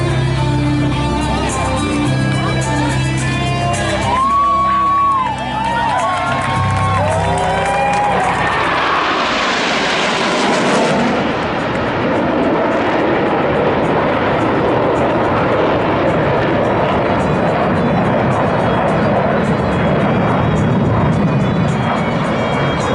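Blue Angels jets at an air show at NAS Jacksonville sweep in from the left, a rising roar that peaks overhead and settles into a broad, loud rumble that carries on for many seconds.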